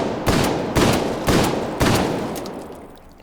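A Russian shotgun fired in the game Hot Dogs, Horseshoes and Hand Grenades: four loud, evenly spaced blasts about half a second apart, each with a short decaying tail, and no talking.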